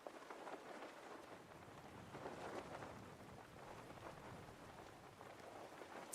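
Steady rain hisses across an outdoor landscape in Skyrim, a dense even wash of drops with a faint rumble beneath and no voices.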